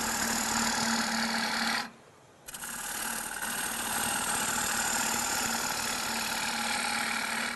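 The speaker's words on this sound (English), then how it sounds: "I want to get rid of some of that material. You notice I'm using a long grind bowl gouge again." A wood lathe spins a bowl blank while a long grind bowl gouge removes material, giving a steady, loud mechanical hum. The hum cuts out briefly for about half a second, then resumes.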